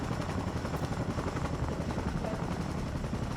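A helicopter flies in a battle-royale shooter game, its rotor beating in a fast, steady, loud chop that fills the whole stretch without pause.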